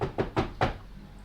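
Knocking on a wooden door as a tabletop game sound effect, four quick dull knocks in an even rhythm, close and clear, then silence.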